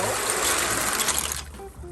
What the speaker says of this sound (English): I'm going to put them in the water like so.